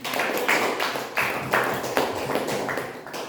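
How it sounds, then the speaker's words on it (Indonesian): A group of students applauds for group 1 in a classroom, giving short bursts of clapping that come in uneven waves and fade toward the end. "kasih aplaus untuk kelompok 1"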